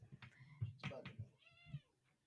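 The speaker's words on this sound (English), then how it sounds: "Oh, she's meowing at him." A female cat meows several times at another cat indoors, the drawn-out calls fairly close and clear, with someone talking and other household sounds around them.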